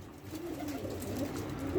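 Captured pigeons, escaped tumbler birds brought in from Mardin, coo in low, throaty rolling phrases close by in a quiet room, one bird's call swelling near the end.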